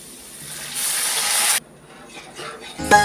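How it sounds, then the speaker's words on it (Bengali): Water poured into a hot pan of fried lentils being cooked for dal puri, a loud broad hiss and sizzle that swells for about a second, then drops to softer bubbling and stirring before a clatter at the end. "এখন আমি পরিমাণ মতো পানি দিয়ে দিচ্ছি।"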